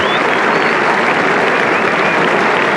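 Sustained, loud applause from a cricket crowd at a 1976 England Test match, cheering Roy Fredericks' century, a dense unbroken wash of clapping throughout.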